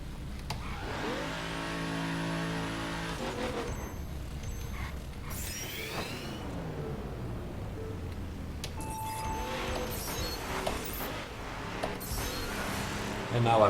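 A Nissan Skyline engine in The Crew revs up through rising, sweeping pitches during a drag run, dropping between shifts and climbing again, moderately loud with faint talk beneath.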